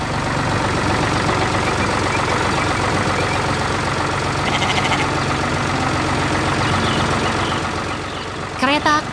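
An animated tractor's engine runs in a steady, low, even drone for several seconds as it works the farm soil, while a voice narrates over it and a brief higher sound breaks in near the end.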